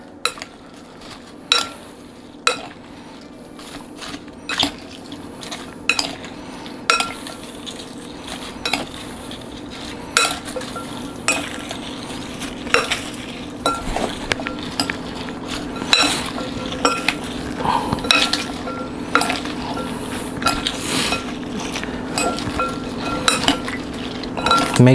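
A spoon stirs sugar into a mixture in a bowl. It gives a long, steady series of metallic clinks and scrapes, getting busier and more regular as the stirring goes on.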